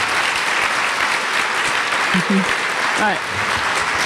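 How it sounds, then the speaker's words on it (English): Audience applause at an education conference keynote in Seattle: steady clapping fills the room throughout, with a couple of brief spoken interjections over it near the end. "Please give a round of applause"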